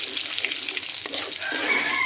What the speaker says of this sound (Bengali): তো তেল আমাদের এখানে খুব ভালোভাবে গরম হয়ে গেছে। এতে আমি দিয়ে দিচ্ছি শুকনো লঙ্কা আর কালো জিরে।